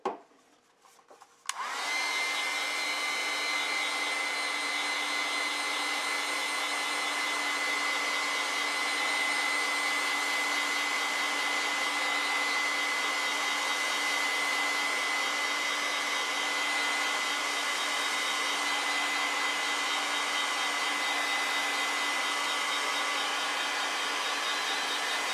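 A hair dryer blowing on a hydrangea painting to dry the paint, switching on after a brief pause and then running as a loud, steady, continuous whir with a constant tone throughout.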